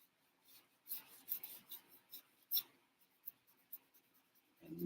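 A toothbrush scrubs a part from a model car kit in a series of faint, short rasping strokes that come in uneven bursts, with no voices.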